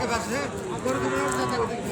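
Several cows moo and low in overlapping, drawn-out calls at a cattle market in Joypurhat, close and fairly loud, with a faint murmur of people in the background.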